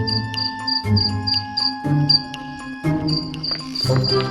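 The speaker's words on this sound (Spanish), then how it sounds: "se ponen en mitad de la noche a armar un escándalo tremendo." Crickets chirp at night in Madagascar in quick repeated bursts, loud and close, with a few rhythmic pauses between trills against a quiet background.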